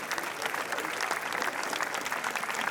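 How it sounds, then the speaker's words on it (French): An audience in a theatre at the 2018 Cannes film premiere keeps up a steady, dense round of applause, with many hands clapping continuously and no break. "Et voilà donc les applaudissements qui continuent dans la salle"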